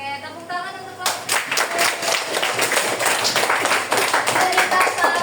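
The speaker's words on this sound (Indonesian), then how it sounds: "Oke, tepuk tangan untuk kelompok." A class of students claps for a student group in a school lesson, a dense, steady burst of many hands starting after a second and continuing close and loud to the end.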